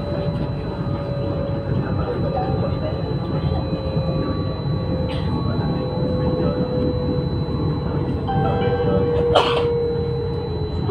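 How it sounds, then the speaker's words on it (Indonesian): Steady rumbling of a KLIA Transit airport rail train departing toward KLIA 1 and 2, with a faint mechanical whine, continuous throughout, and a brief voice near the end. "sekarang keretaku akan berangkat menuju ke KLIA 1 dan 2"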